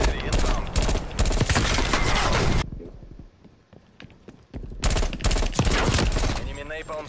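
An artillery strike lands in the video game Black Ops Cold War, heavy rolling blasts and dense gunfire on both sides of a quieter gap, with a game voice speaking over the noise.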